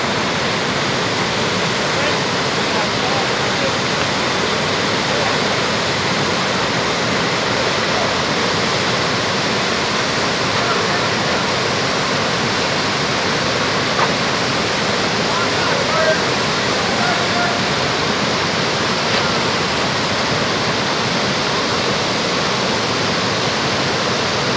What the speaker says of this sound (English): See that rock where the water's pouring off and hit?